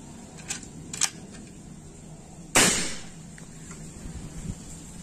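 Two light clicks precede one sharp, close PCP air rifle shot that cracks and fades quickly, followed by faint handling noises, from a folding sidelever rifle with a 50 cm barrel.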